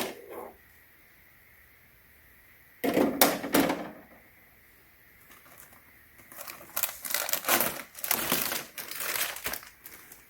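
A plastic bag crinkles and rustles in several loud, irregular bursts during the unboxing of a Winix 5500-2 air purifier, with quiet pauses between handling.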